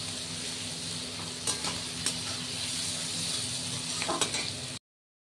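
Onions frying in a pan with turmeric and salt give a steady, soft sizzle with a few sharp spatula scrapes against the pan, with no talking.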